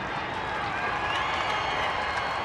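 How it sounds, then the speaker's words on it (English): A baseball stadium crowd cheers and applauds after a double, a dense, continuous roar of clapping and voices at steady loudness throughout. "Crowd loving it"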